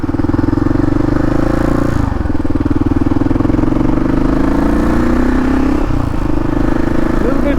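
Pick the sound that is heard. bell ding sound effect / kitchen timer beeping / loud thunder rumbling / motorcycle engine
motorcycle engine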